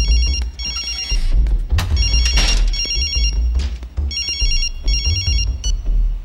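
A mobile phone ringtone plays loud and close in repeated bursts, an incoming call ringing on without an answer, with scattered knocks and movement noises around it.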